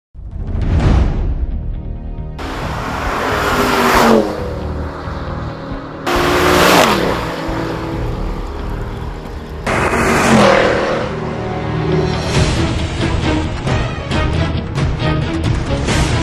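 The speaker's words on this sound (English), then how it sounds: "今次我们特登来试这个 C63 的 Coupe" Mercedes-Benz C63 AMG Coupe on a test drive, its engine revving hard in repeated loud bursts of acceleration, with sharp roaring surges separated by brief lulls and no talking.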